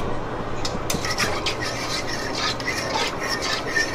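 Sauce for seafood lasagna whisked in a pan over medium heat, a soft continuous scraping and swishing with a few brighter metallic strokes, close and moderate in level.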